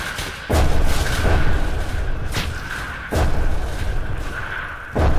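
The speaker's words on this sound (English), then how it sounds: "And the artillery has wiped out some of them, many of them, like 4 of them" Artillery fire in the trench-warfare game Entrenched, heavy booming impacts landing about every second or two, each a deep thud with a rumbling tail over a constant background drone.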